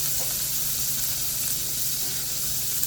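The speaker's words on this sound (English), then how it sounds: "Got my skillet heating up with some bacon grease in it. I'm gonna add some butter to it" Butter melting into hot bacon grease in a cast iron skillet, heard as a steady, even sizzle with a bright hiss that holds constant throughout, close and fairly loud with no talking.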